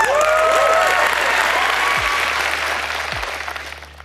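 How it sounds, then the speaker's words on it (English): A dense round of applause from a crowd, loud at first and gradually thinning, with a few faint tones underneath. "give them a round of applause"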